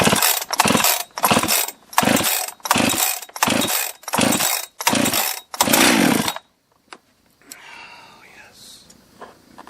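A Jonsered 2071 chainsaw, just rebuilt, is pull-started repeatedly: about eight loud, rhythmic rasping pulls of the recoil cord, then quiet with faint mechanical fiddling.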